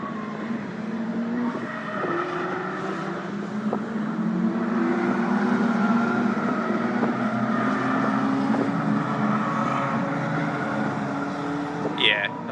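Caterham race car engines drone steadily as cars pass along the Croft circuit, the roar rising and falling under a constant hum of motor noise.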